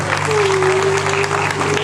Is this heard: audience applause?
yes